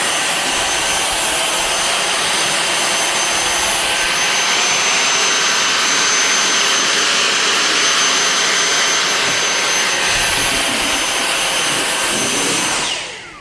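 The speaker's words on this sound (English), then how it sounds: "the Dyson is your friend, because it comes with this great long tube, and you can vacuum into those areas that you can't quite reach like this" A Dyson vacuum cleaner fitted with a long tube whines steadily and loudly as it cleans model railway track, holding a constant jet-like roar before cutting off near the end.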